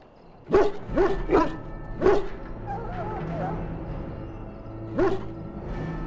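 A dog in the video game Dragon Age: Origins gives a run of sharp barks and yips, several close together at first and then one more after a pause, over a low steady background.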